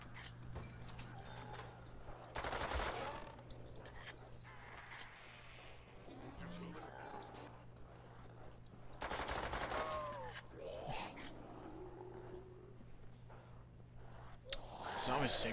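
Fully automatic pistol fire in a custom zombie-map shooter game, heard as two dense bursts of rapid shots amid mechanical clanks and other game noise, with talk running over it.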